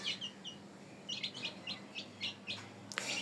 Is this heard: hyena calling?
no